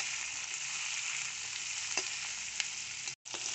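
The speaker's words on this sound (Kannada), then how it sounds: "ಬೆಂಡೆಕಾಯಿ ಹೋಳುಗಳಿಗೆ ಅರಿಶಿನ ಪುಡಿಯನ್ನು ಹಾಕಿ 2 ರಿಂದ 3 ನಿಮಿಷ ಫ್ರೈ ಮಾಡಿಕೊಳ್ಳೋಣ" Okra pieces dusted with turmeric fry in a pan, a steady close sizzle running throughout with a few stirring clicks and a brief drop near the end; no voices.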